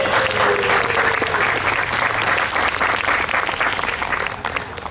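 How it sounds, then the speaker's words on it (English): Sustained audience applause fills a brass band concert hall, many hands clapping in a dense, steady roar at close range with no talking over it. "Why don't you give yourselves a round of applause too,"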